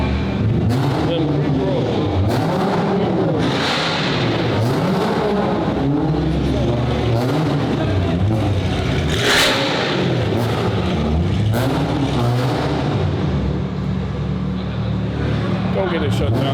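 Cars rev their engines at a busy car meet, loud and continuous with rising and falling engine pitch sweeps throughout, while a crowd talks and shouts over the noise.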